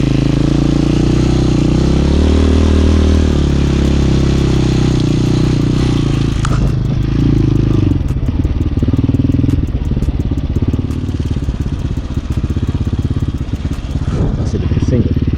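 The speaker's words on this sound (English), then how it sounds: "Let me see if I let off the throttle. It's gonna run. I got her idle really low." A Honda Hawk 250cc dual sport motorcycle idles low nearby, its engine putting out a steady throb, with clattering mechanical ticks growing more prominent partway through.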